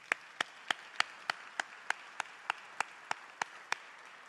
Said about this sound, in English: Let's have a bigger round of applause for both of them again.